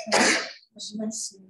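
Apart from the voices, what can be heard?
sneeze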